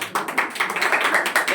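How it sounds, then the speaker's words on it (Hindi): A group of children in a classroom claps for a correct answer, a short burst of quick, uneven hand claps close by, lasting under two seconds. "वेरी गुड, ताली बजाओ उसके लिए"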